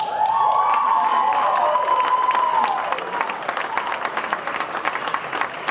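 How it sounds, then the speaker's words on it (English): A loud audience applauds and cheers for a 2018 St. Mary's College Athletic Hall of Fame inductee. Steady dense clapping runs throughout, a sustained whistle rises over it at first, and the applause thins slightly toward the end. "I do want to acknowledge the loud crowd over here, which is our own St. Mary's volleyball team"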